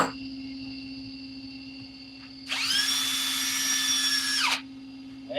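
A power drill whirs on a wood lathe in a workshop, revving up sharply, holding a steady high whine for about two seconds, then cutting off over a low background hum.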